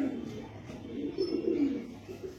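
Lal shira pigeons, a paired male and female, coo softly and close by in a short run of low, throaty, warbling calls.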